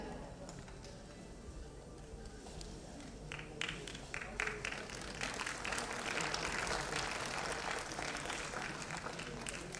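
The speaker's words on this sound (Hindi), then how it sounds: "आप लोगों से रिक्वेस्ट है कि तालियां मुझे एकदम जोरदार चाहिए" An audience at the Dadasaheb Phalke Award 2017 ceremony breaks into applause in a large hall. The clapping starts moderate and swells louder and denser after a few seconds, then holds as a sustained crowd ovation.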